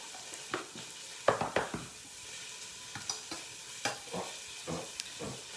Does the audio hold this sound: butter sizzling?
yes